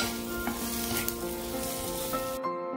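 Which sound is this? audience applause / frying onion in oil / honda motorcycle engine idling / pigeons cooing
frying onion in oil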